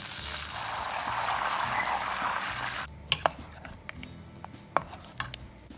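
Butter browning to beurre noisette in a pan gives a steady, loud, close sizzle for about three seconds. The sizzle then drops away and a few sharp utensil clinks against the pan follow, with no talking.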